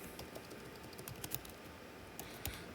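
Quiet, rapid keystrokes tap on a computer keyboard in a short burst of typing, close and faint over a low background hiss.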